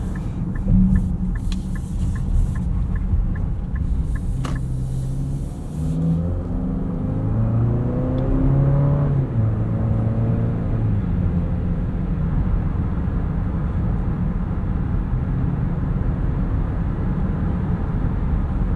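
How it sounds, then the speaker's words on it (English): A 2025 Nissan Murano Platinum AWD engine drones steadily from inside the cabin while driving, rising in pitch as it accelerates, then settling into a constant rumbling hum. "I just don't like the way this engine sounds."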